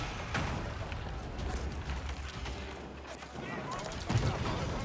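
Cannons firing in a competitive Age of Empires IV tournament match, heard as sharp booming blasts over a steady rumbling battle bed, with a commentator talking over it.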